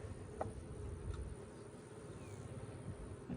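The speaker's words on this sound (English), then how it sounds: "Got some bees on that one" Honey bees buzz steadily across a frame in a new package hive, a soft continuous low drone with faint, fairly distant hum and no talking.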